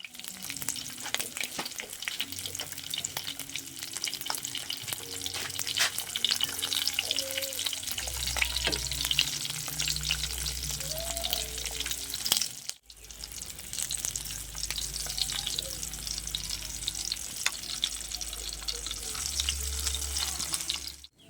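Tuyo, dried fish, sizzles and crackles in hot oil in a pan, a steady frying hiss with clinks of a utensil stirring and some splashing water nearby, low rumbling thuds in the background.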